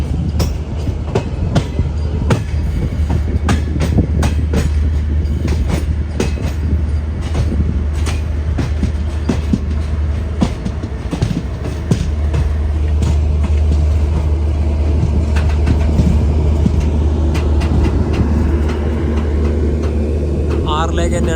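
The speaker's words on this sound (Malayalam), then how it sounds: "അങ്ങ് അതിലൂടെ ഒരു ട്രെയിൻ പോകുന്നുണ്ട്. തിരുവനന്തപുരം കാസർഗോഡ് വന്ദേ ഭാരത്." Thiruvananthapuram–Kasaragod Vande Bharat passing close by, a long sustained rumble with rapid rhythmic clatter of wheels over rail joints, heard while people talk.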